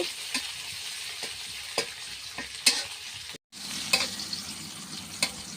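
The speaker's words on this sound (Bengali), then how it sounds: "এগুলো একটু ভাজা ভাজা করে নেব।" Chili, bay leaf and garlic sizzle in hot oil in a pan, a continuous close frying hiss punctuated by sharp scraping stirs every second or so, with a brief gap midway.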